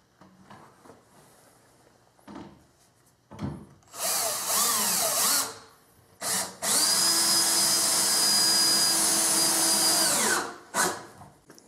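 Power drill driving a screw into wood with a Phillips bit, short trigger bursts followed by a long sustained whine that slows as the screw seats, then a final quick burst, close and loud, no talking.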